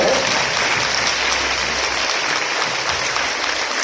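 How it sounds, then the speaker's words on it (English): Dense, steady applause from a large crowd at a school assembly honouring mothers, sustained and loud throughout with no pauses. "let's clap the biggest round, humble sound for all the mothers present here"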